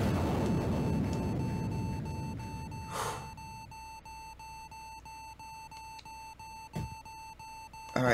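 A repeating electronic alarm beep from the video game Axiom Verge sounds as steady, evenly spaced tones, moderately loud, with a couple of brief game noises in between and no talk.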